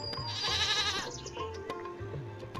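A goat in a video game gives one wavering, high bleat, followed by quieter background sounds.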